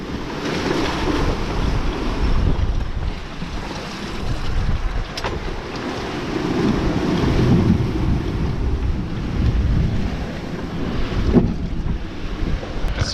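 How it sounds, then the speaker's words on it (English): Strong wind roars and gusts around a sailboat's rigging at sea during a singlehanded transatlantic passage from Bermuda to the Azores, with steady buffeting, surging waves and occasional sharp creaks or knocks. "It's whistling around the rigging."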